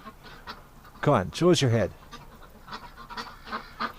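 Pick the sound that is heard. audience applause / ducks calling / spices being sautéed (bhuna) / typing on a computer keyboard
ducks calling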